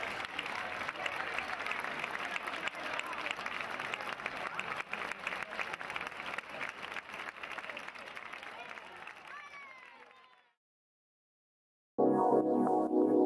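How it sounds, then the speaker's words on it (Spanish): Loud, sustained applause from a bullring crowd as the bullfighting teams leave the arena after the afternoon's corrida; steady clapping for about ten seconds fades to silence, then another loud sound starts abruptly. "La última ovación de la tarde se la llevaron todas las cuadrillas al abandonar la plaza."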